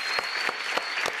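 A talk-show studio audience claps for a musician, brief quiet applause with a few distinct, spaced hand claps standing out over a soft background.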